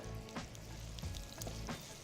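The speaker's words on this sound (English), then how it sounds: "a little bit of flour on these onions here, and then we'll put that in the hot oil to start to fry away" Flour-dusted onions fry in hot oil, giving a steady, soft sizzle with scattered crackles and pops throughout, with no voices over it.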